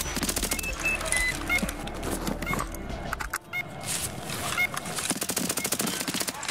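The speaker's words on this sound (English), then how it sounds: "I just shot." Gunfire in the shooter game Escape From Tarkov Arena, rapid bursts and scattered shots over game ambience, with a player talking now and then.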